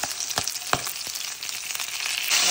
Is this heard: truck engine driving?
no